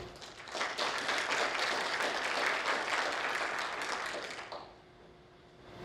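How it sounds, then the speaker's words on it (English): An audience at an alumni awards ceremony applauds warmly, a dense wash of many hands clapping that swells and then fades away near the end. "give David and Marlene Weatherby DeLauder a round of applause."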